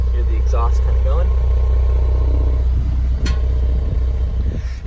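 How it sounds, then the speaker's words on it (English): A 2020 Jeep Cherokee Trailhawk's 3.2-liter V6 dual exhaust rumbles steadily at idle, a deep continuous drone with a brief sharper pop midway, while voices talk over it. "This is dual exhaust. Hear the exhaust kind of going."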